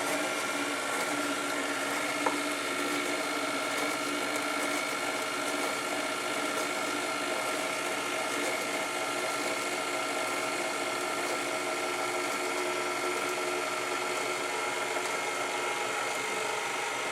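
An electric mixer drones steadily while beating coffee cake batter, with a continuous whirring hum and faint rattling that holds even from start to finish, with no voices.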